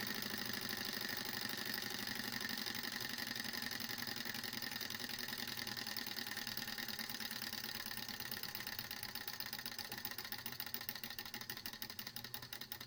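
A small wick-fired Stirling engine runs at a steady, fast rhythmic chug with a quiet mechanical whir, faint and continuous throughout, growing slightly choppier near the end.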